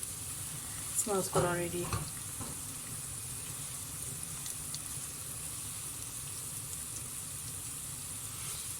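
Lamb meat frying with onions in a pot for Sindhi lamb biryani gives a steady, moderate sizzle, with a brief stirring clatter near the start and a short spoken remark over it.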